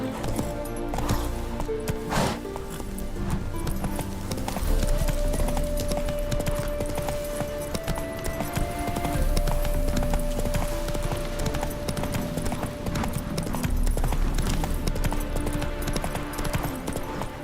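Horse hooves clip-clop steadily at a trotting pace through the whole stretch in Witcher 3, set against a dense game score and ambient layer, with a faint voice briefly over it.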